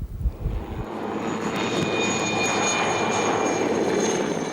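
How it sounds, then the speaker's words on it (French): A helicopter flies low over vineyards while spraying them, its engine and rotor roar building from faint to a steady, loud drone that holds to the end, with a thin whine riding on top. "Le survol à basse altitude et l'épandage des produits peut surprendre plus d'un passant."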